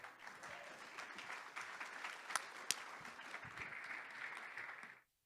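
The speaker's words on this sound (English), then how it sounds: "please give a round of applause for Sunamita, Borges da Costa with Qxote" Steady audience applause at a startup pitch showcase summit as a speaker is called up, continuous crowd clapping with a couple of sharper claps near the middle, cutting off abruptly at the end.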